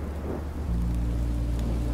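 Rain falls with rumbling thunder in the video game Minecraft Story Mode, a steady wash of noise with a low continuous rumble and no voices.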